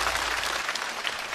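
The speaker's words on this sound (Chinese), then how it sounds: "再次掌声送给" Audience at a stand-up comedy show applauding steadily, a dense wash of many hands clapping close and loud throughout.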